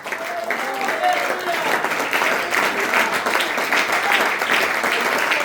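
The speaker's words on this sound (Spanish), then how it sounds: "Denle palmas a Dios." A church congregation claps for God during a pastor's sermon, a dense, steady patter of many hands filling the room, with voices mixed in beneath the clapping.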